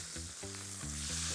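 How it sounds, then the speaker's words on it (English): Chicken sizzles on low heat in a Lodge cast iron skillet, a steady close crackle and hiss running unbroken with a faint low hum beneath. "we've been sizzling for about 5 minutes on low heat"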